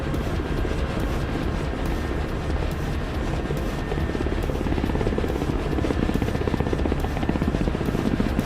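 A single-seat Ka-52 Black Shark strike helicopter in a video game, a steady close rotor chop with a buzzing turbine whine sustained throughout, without speech.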